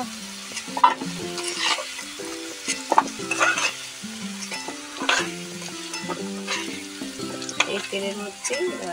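Potatoes fry in oil in a pan until reddish-brown for a Bengali jackfruit curry, sizzling under repeated metallic clinks and scrapes of a spatula against the pan.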